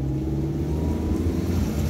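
A Toyota Avanza engine with an inactive oxygen sensor revs steadily while the car cruises on a highway, a loud continuous droning rumble with constant road noise and no break in the sound.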